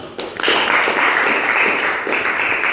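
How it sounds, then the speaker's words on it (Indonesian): Brief burst of applause from a school class of eleventh-grade students after poster presentations, starting abruptly and holding steady before tapering slightly near the end. "Tepuk tangan untuk kelas 11 A5."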